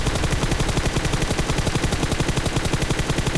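Sustained automatic gunfire sprays in the mobile battle-royale game PUBG Mobile, a dense rapid string of sharp shots firing without pause for several seconds, loud and close.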